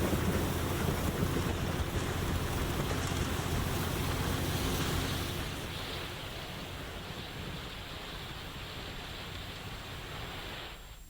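Heavy monsoon rain and strong gusting wind in Igatpuri make a loud, dense broadband roar that rushes steadily and eases a little partway through, with no voices.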